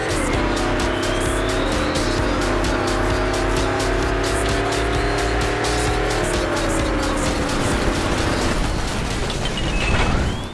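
A car races at speed in the Fast and Furious Showdown video game, its engine droning loud and steady with rising and falling pitch and tire noise, continuous throughout without talk.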